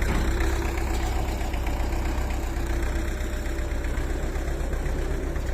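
A CLAAS Dominator 86 combine harvester's diesel engine runs steadily at close range, a dense, continuous rumble and clatter that holds even for several seconds as the machine gets moving.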